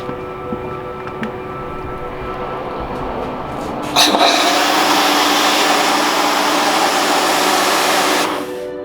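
A Karcher K3 pressure washer runs with a foam cannon attached, giving a steady mechanical hum that swells into a loud, broad hiss of spray partway through, then cuts off near the end.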